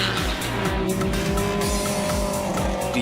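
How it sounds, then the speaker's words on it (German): Porsche 917/30 race car with over 1000 horsepower running at the Hockenheimring, a loud engine howl with rapid repeated rising gear-change sweeps. "Mit über 1000 PS gilt der Porsche 917/30 als stärkstes Rundstreckenauto aller Zeiten."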